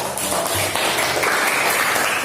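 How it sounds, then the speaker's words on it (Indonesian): Applause from a group in a classroom workshop on ritual purification, a dense even wash of clapping running steadily throughout, fairly loud and without pause. "tepuk tangan untuk Mutia"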